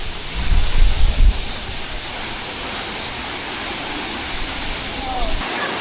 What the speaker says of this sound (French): c'est la tempête à la cascade